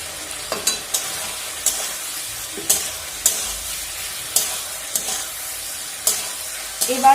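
Spice masala with a little ground coriander being stirred and fried in a pan: a steady soft sizzle punctuated by regular sharp spatula scrapes and knocks against the pan, close up and with no talking.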